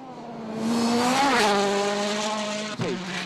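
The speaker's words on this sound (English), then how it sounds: "the Norwegian hurls his Citroën DS3 through this quarry" Citroën DS3 rally car on a WRC Rally Jordan stage, roaring loud and close through a quarry with a rising and falling engine note, revs climbing and then dropping sharply near the end. Commentary runs beneath it.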